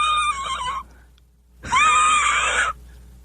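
Two strained, high horse whinnies, the first shorter and the second longer and wavering, separated by a brief quiet pause and heard close and clear without talk.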